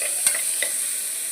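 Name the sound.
sautéing onion, fennel and cinnamon in a pan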